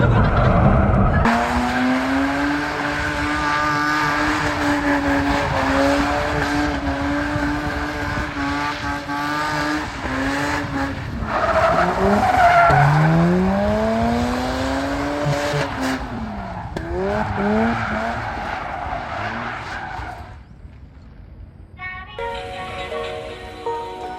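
A Mazda RX-8 drifting on old, worn tires, its engine roaring loudly as the tires squeal and skid in long rising and falling wails, easing off near the end.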